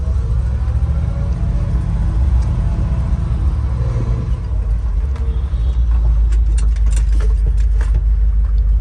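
A 1972 Chevrolet pickup truck backing up in reverse, its engine giving a loud, steady low rumble throughout with light rattling and jangling near the end.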